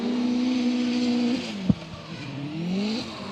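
A Toyota 86 race car drifts on Nexen tires at a competition course, its engine droning steadily, dipping briefly with a sharp knock, then rising again as the throttle reopens, with a faint tire squeal underneath.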